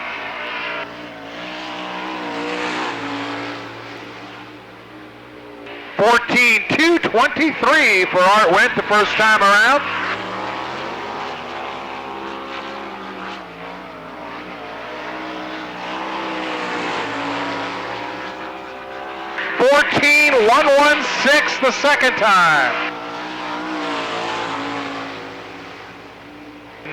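Race cars at Lernerville Speedway, a dirt oval, roar past in two loud bursts of engine noise during time-trial laps, with a track announcer talking over a steady hum of distant engines between passes.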